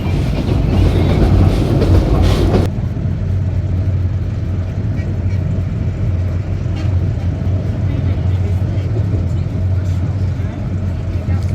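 Steady rumble of a train running on rails near the Jamuna bridge in Bangladesh, heard from inside through a train window, with a louder burst of wind and rail noise at the start before settling into a continuous drone.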